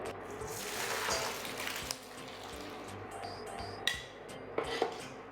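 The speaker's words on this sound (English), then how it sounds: "So I'm just going to go ahead and drain it and then rinse it in cold water and then keep it aside." Cooked spaghetti drained and rinsed under cold tap water in a kitchen, with a steady rush of running water, then metal pot and utensil clinks and light splashes toward the end.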